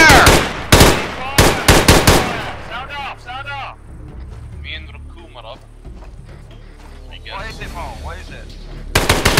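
Rapid bursts of gunfire in a tactical military shooter game, loud clustered shots at the start and again at the end, with players talking over voice chat in between.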